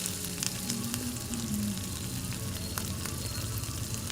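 Native chicken pieces hit a hot pan with garlic and ginger for tinola, giving a steady, close, dense sizzle and crackle that runs unbroken throughout, with a few faint stirring touches and no talk.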